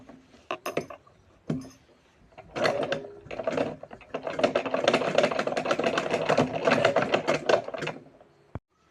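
A sewing machine stitches a bag made from old cloth in short bursts, a close mechanical whir that starts and stops, then runs for several seconds before ending with a sharp click.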